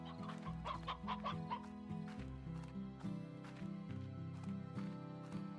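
Chickens clucking in the farming video game Slime Rancher, a steady run of short clucks over a dense, continuous game music and ambience bed, fairly loud throughout.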